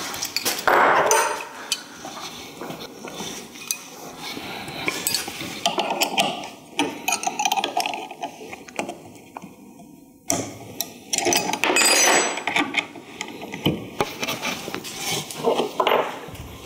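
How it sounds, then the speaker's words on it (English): A bit is changed on a LongMill CNC router with metallic clinks, taps and rattles of tools and collet parts, irregular handling noises close by with brief quiet pauses. "I'm just gonna change the bit on this guy."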